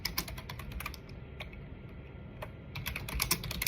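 A computer keyboard clatters as a text prompt is typed in, rapid close keystrokes in bursts with a short lull in the middle before the tapping picks up again.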